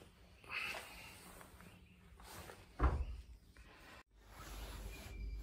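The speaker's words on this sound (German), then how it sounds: "Und diese Tür geht extrem schlecht auf." A stiff door on a Fiat Cinquecento is forced open, giving scraping creaks and one sharp, close metallic clunk midway, followed by a faint rattle, with no talking.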